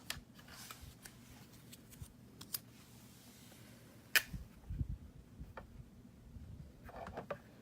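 Scissors cutting paper for handmade card making, a few short snips close up against a quiet background, with no talk.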